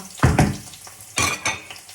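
Onion and garlic fry in a pan for beef broccoli, with sizzling broken by several loud scraping, clattering stirs of a utensil against the pan, close and without talk.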